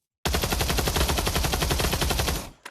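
Rapid automatic fire from a bullpup rifle in the VR shooter Pavlov, a steady burst of close, loud shots lasting over two seconds before stopping abruptly, with a faint mechanical click at the end.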